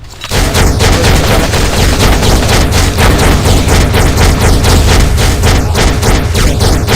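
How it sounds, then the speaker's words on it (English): Machine gun barrage in the Marvel Future Fight mobile game: a loud, continuous rattle of rapid fire with booming impacts, sustained almost without pause for the full stretch, no voices. "The enemy by firing a barrage with a machine gun."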